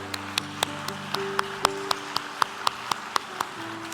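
A church congregation clapping at a Sunday morning worship service, sharp claps falling in a steady, even beat about four times a second over sustained musical tones, moderately distant and unaccompanied by speech.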